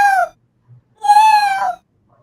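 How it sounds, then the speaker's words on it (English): A cat meows twice, loud and close: a short cry, a pause, then a longer drawn-out meow lasting about three quarters of a second, with no other sound around it. "it's the damn cat. It won't stop."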